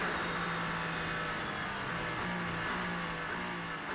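Race car engine at Monza during an FIA World Endurance Championship race: a steady, loud, continuous drone with a held low tone throughout, no voices.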